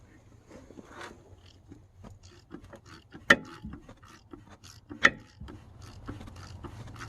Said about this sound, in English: now we're just going to tighten this right here, and that's going to pull that pulley off of there